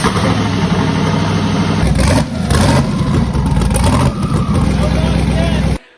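Car engine running and revving, a loud steady mid-pitched idle with rising and falling revs, close by, cutting off abruptly near the end, with a voice talking over it.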